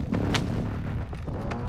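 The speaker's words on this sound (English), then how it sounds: "Friendly precision airstrike" Precision airstrike explosions in Call of Duty: Modern Warfare II, several heavy booming blasts in quick irregular succession, loud and close over rumbling background.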